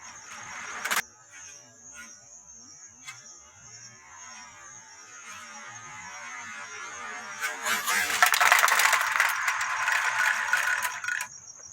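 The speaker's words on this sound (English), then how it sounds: "and then release the brake, which would start the descent of the car." A Meccano model funicular car starts its descent after the brake is released, with a metallic rattling and clattering that grows louder toward the end over a steady high whine.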